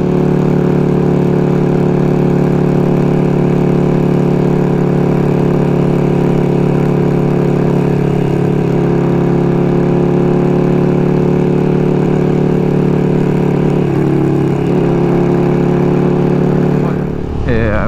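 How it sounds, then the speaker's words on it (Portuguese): KTM 1290 R Super Duke motorcycle fitted with a short LeoVince LV-10 exhaust, idling loud and close with a deep steady drone for the full length, ending in a brief shift in tone. "vamos ouvir mais aí o som da moto"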